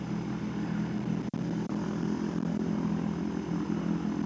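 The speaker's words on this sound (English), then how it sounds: "We've got another plane in circuit now" A propeller-driven light plane flies a circuit around an airfield, its engine a steady droning hum that holds at a constant level throughout, with two brief dropouts.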